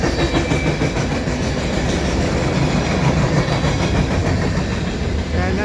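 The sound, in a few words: CN westbound freight train passing at Dorval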